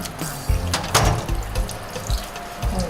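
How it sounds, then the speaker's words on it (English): Tilapia being washed by hand in water in a basin or sink, with splashing and sloshing in uneven bursts and some knocks, close up, with no one talking. "We are washing the fish."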